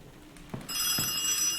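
An old telephone bell rings in the WWI psychological horror game Ad Infinitum, a loud continuous metallic trill that starts after a couple of soft thumps.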